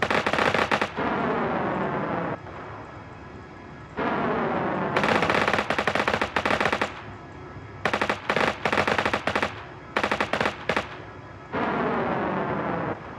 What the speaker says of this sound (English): Now these rockets reload after a few seconds.